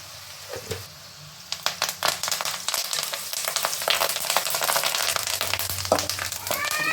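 Garlic and turmeric fry in hot oil in a home kitchen, giving a steady close crackling sizzle with scattered sharp pops and stirring scrapes that grow busier toward the end.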